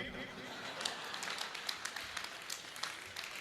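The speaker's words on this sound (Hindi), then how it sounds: "तालियां आप लोगों ने गलत जगह बजा दी।" Audience clapping fills the hall at a Jain Panchkalyanak Pratishtha festival in Krishnanagar: steady, scattered applause of moderate loudness with sharp individual claps and crowd murmur underneath.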